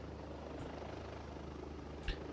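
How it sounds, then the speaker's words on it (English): A low-flying police helicopter over a protest dispersal, its steady rotor drone holding constant throughout with a brief sharper burst near the end, no voices over it. "So that's like a police helicopter."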